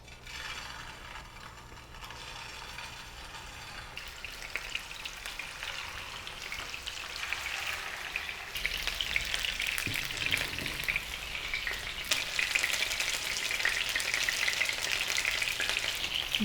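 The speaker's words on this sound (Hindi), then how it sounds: "तो चलिए इसको शैलो फ्राई करते हैं।" Chicken gola kababs shallow-fry in about six tablespoons of oil in a pan over a medium flame, giving a steady crackling sizzle that grows louder and denser partway through, with light stirring clatter.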